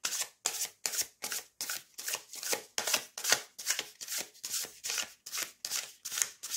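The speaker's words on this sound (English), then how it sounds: "You hear that rustling sound of nice matte cardstock." Matte cardstock tarot cards being overhand shuffled, a steady run of about a dozen crisp, close rustling bursts in an even rhythm with no voices.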